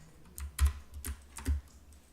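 A few sharp keystrokes on a computer keyboard, the Ctrl key among them, pressed in a quick uneven cluster while working in Adobe Illustrator CS6, close and fairly quiet with no talking.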